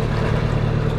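A yacht's engine runs in gear with a steady, loud, low drone. The tone stays constant and close throughout, with no voices.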